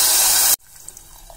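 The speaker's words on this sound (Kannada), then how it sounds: "ಇವಾಗ ನೀರು ಹಾಕೋಣ. 1 ಕಪ್ ಗೋಧಿ ನುಚ್ಚಿಗೆ 4 ಕಪ್ ಅಷ್ಟು ನೀರು ಹಾಕೋಣ." Water gushes loudly into a cooking pot of sautéed field beans and onion for broken wheat upma, a steady hissing pour that stops abruptly after half a second, followed by faint light clinks.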